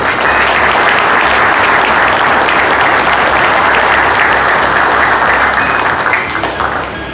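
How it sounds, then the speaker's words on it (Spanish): Sustained, loud audience applause at a book launch, a dense steady wash of many hands clapping for about seven seconds before easing slightly at the end, with no talk over it. "Quiero pedirles un fuerte aplauso por esa querida tierra de Pomabamba."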